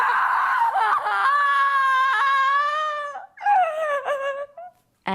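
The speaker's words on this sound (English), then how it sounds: "Listen as she tries one scream with the word no." A voice actress's scream recorded for video games: a long, loud, sustained high-pitched scream with wavering pitch, a brief break, then a second shorter cry, heard alone.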